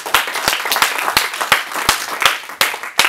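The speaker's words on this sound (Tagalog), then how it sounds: "Malakas sa palakpak po." A church congregation applauds during a pastor's preaching service, sharp individual claps standing out over a continuous wash of clapping, nearby and fairly loud.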